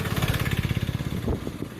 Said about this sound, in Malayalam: ഓട്ടോറിക്ഷ നല്ല രീതിയിൽ കയറി വരുന്നുണ്ട്